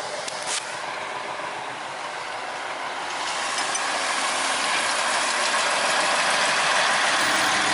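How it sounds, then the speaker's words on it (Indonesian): A sugar cane rail locomotive runs along an overgrown track through thick grass, a steady rushing rattle and clank that grows louder and closer partway through and continues without pause. "lokomotif harus uji coba jalur terlebih dahulu, melewati rimbunnya rerumputan"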